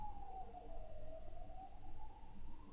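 Emergency siren with a wailing tone that sweeps slowly down and back up, steady and fairly loud throughout over low background rumble, with no voices.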